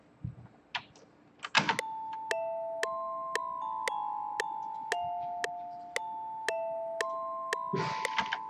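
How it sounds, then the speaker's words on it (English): Electronic ringtone-like chime made in FL Studio for game music: a steady series of bright, evenly spaced tonal pings that sustain and overlap, framed by brief bursts of clatter at the start and end. "ringtone. Oh my god."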